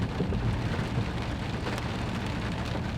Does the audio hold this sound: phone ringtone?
no